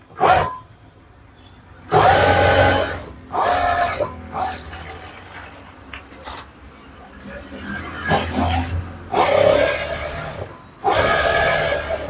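A sewing machine stitches blouse fabric in several bursts of rapid, buzzing stitching a second or two long, separated by short pauses, close and moderately loud.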